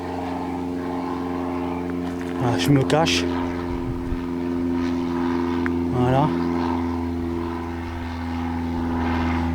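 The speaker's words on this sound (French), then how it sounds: "Vous voyez, il y a des avions." Airplanes fly overhead near an abandoned base, giving a steady droning engine hum throughout while someone speaks quietly close by.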